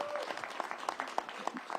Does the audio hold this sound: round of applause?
yes